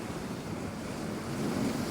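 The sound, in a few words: huge sea swells and waves at Hopton on Sea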